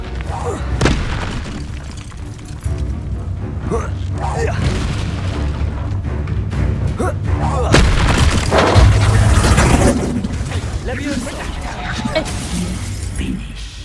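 A Confringo explosion spell goes off in Hogwarts Legacy, deep booming blasts with shattering bursts over a steady bed of game sound, loud and continuous, with a voice talking throughout.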